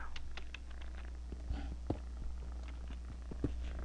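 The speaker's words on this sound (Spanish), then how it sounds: "acá está ronroneando mi gato" A pet cat purrs very faintly close to the microphone, a soft low rumble under steady background hiss with a few light clicks and no talking.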